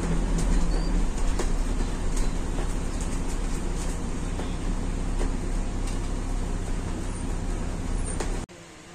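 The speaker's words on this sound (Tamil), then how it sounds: "ட்ரெயின் கிராசிங்காக நம்ம பஸ் நிறுத்தி வச்சிருக்காங்க." A local train rumbles past a level crossing steadily with rhythmic clacking of wheels over rails, loud and close, then cuts off abruptly near the end.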